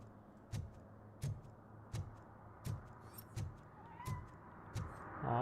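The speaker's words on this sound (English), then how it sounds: "Aw, it's a kitty." Cat meowing in the video game RoboCop: Rogue City, about seven evenly spaced short meows over a quiet low hum, moderately near.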